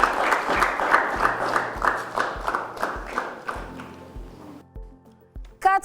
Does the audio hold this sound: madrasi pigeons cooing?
no